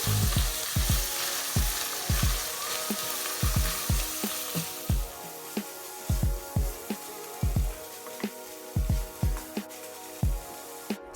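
Ground beef browning in a pan on a stovetop as chili is made, a steady loud sizzle broken by regular scraping stirs of a spatula about once a second, with no talking.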